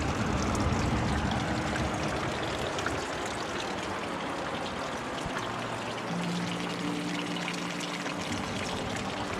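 Water streams and trickles down a cliff face beside the beach at Castlerock, a constant close rushing splash, with a low hum entering near the end; nobody speaks.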